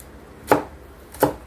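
Two sharp knife chops on a cutting board as garlic is cut into small pieces for pork tapa, evenly spaced and close, with quiet between strikes and no talking.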